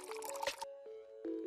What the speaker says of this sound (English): Fill a lid with water.